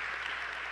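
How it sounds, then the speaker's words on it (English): An audience at a community event at the Niebuhr Center gives dense, continuous applause, a steady wash of clapping from a crowd filling the moment. "Give yourselves a round of applause"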